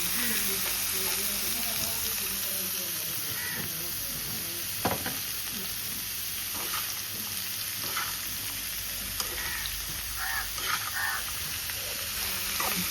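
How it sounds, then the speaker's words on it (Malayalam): Garlic and chillies crackle and sizzle steadily in hot oil for a pickle, a dense close frying hiss with stirring scrapes and occasional pops, faint talk beneath. "വെളുത്തുള്ളിയൊക്കെ പൊട്ടിയുണ്ട്."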